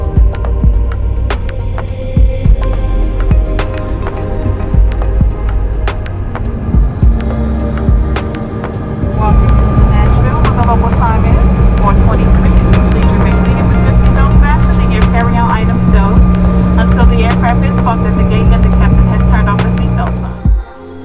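Steady, loud airplane cabin drone during a smooth passenger flight to Nashville, a continuous low throbbing engine hum that holds constant throughout with no talking.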